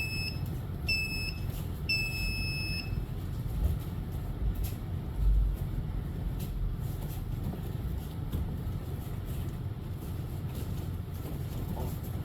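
Electronic timer at a morning no-gi jiu-jitsu session, three short high-pitched beeps in quick succession at the start over a roomy background of rustling and thuds.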